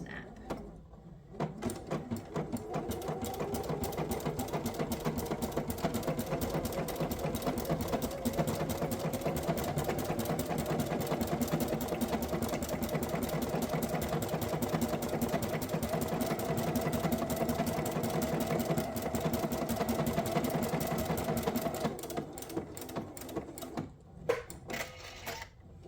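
Sewing machine stitching a Lutradur lantern over wires, running steadily and loudly for about twenty seconds with a dense mechanical whir, starting and stopping at either end.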